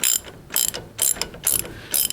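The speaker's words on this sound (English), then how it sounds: "And the only thing left now is to bolt it down." A ratchet wrench bolts down the wishbone ball joint on a Lotus Elise, sounding as five evenly spaced bursts of quick, close metallic clicking with brief pauses between strokes and no voices.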